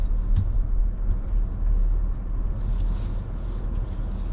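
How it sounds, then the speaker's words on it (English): A road vehicle engine holds a smooth, steady throttle while maneuvering, producing a continuous low rumble heard from inside the vehicle with no talking. "give me a smooth, consistent amount of throttle and be ready to stop again when I ask you to"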